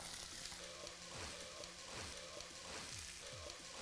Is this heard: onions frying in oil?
yes